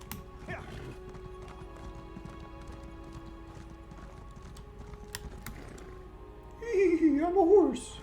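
Horse hooves clip-clop in a steady rhythm in the video game Elder Scrolls Online, with game music tones underneath and someone speaking briefly near the end.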